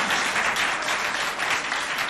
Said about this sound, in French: J'aimerais qu'on applaudisse une fois de plus les autorités